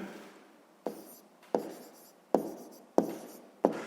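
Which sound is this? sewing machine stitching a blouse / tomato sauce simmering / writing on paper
writing on paper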